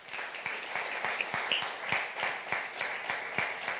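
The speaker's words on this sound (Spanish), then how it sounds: "Denle un aplauso al Señor por eso" Applause in a church service, where a congregation claps to praise God during a Spanish-language sermon on the resurrection; steady, moderately loud clapping fills the room with faint voices underneath.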